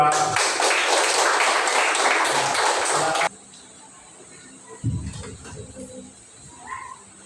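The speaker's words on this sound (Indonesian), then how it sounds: "Beri aplaus sama buat kelompok 2" Classroom applause for a student group during a math lesson, a burst of dense clapping from many hands lasting about three seconds before stopping abruptly, followed by quiet room noise and a brief thump.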